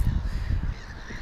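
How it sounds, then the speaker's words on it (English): Lake gulls or crows calling at a holiday park lake in France, heard from a rooftop as faint, distant cries over steady low wind and background rumble. "and you can hear the crows or the seagulls"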